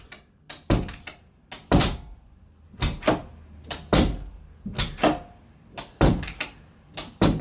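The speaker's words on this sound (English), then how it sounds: "we can test the door once again and see if that's actually resolved the issue" A repaired interior door, rehung after sagging and rubbing, is shut repeatedly with sharp close thunks and latch clicks at an irregular rhythm, loud and near, with no talking.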